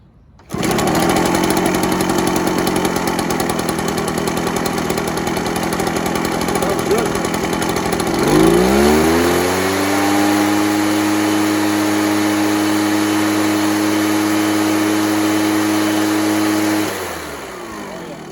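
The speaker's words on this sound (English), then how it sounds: "Let's see how she starts. All right, a little bit of fuel." An Echo PB413H backpack leaf blower's two-stroke engine, fitted with a new NGK spark plug, fires up and runs steadily at high revs, then drops to a smooth, even idle before shutting off; loud and close throughout.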